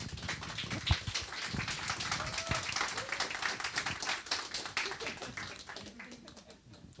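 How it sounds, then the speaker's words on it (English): Audience applause at a KryptoSeoul talk welcoming cryptographer David Chaum, a dense steady clatter of many hands from a sizable crowd that fades slightly toward the end, with faint murmuring underneath. "please give a big round of applause for David Chaum"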